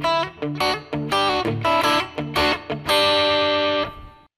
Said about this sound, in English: We can see it's got a distortion there, a red distortion. What kind's it using? Ah, the 808.